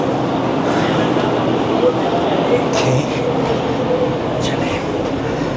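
Train noise at Rohri station on the 5UP Green Line: a steady, loud rumble from inside the carriage, with brief hisses and clatter and someone speaking over it.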